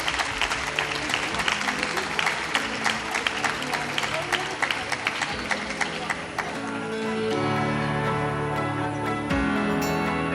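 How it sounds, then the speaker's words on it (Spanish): Audience applause at a debate league awards ceremony in the Cortes de Castilla y León as the winning secondary-school debate team collects its prize; sustained dense clapping fills the hall, with a steady hum and voices appearing in the later seconds. "Un aplauso, un aplauso."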